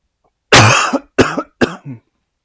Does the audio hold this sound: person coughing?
yes